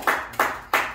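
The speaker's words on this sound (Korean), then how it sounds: "큰 박수 한번 보내주시고." Three sharp hand claps spaced about a third of a second apart, close and fairly loud, at a gathering where the audience is asked to applaud a committee chairman.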